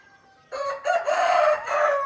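A Thai cross Shamo rooster crows once up close, a loud, drawn-out call that starts abruptly after a quiet moment and holds with a slight break before trailing on.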